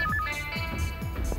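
A telephone in a family home in a TV drama rings with a repeating electronic ringtone, steady and fairly loud, with no voices over it.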